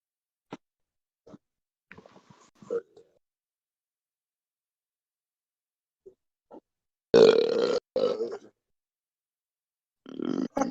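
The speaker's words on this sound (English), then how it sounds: "That was a nice burp." A man lets out a loud, drawn-out burp after drinking beers, preceded by scattered faint clicks and quiet game noise, followed by a couple of grunting bursts.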